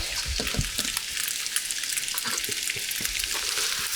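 Mince fries in a pan with a bright, steady sizzle, and soft scraping and stirring knocks sound underneath throughout.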